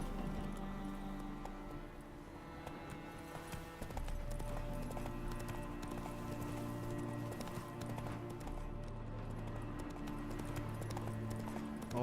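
Roach the horse's hooves clip-clop steadily in The Witcher 3, a continuous rhythmic trot heard throughout over game music and ambience.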